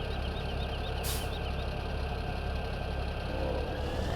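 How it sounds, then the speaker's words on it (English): A tractor engine idles in Farming Simulator 2017, a steady mid-pitched rumble running evenly throughout with a brief bright click near the start. "To start the engine, you got to press enter"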